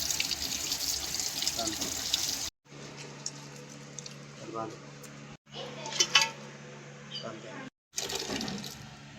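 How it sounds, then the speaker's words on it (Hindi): Water is poured and sloshes in a cooking pot of cleaned ojri (tripe) in a kitchen, with close splashes and clinks of cookware, cut off by short gaps. "पानी शामिल कर देंगे"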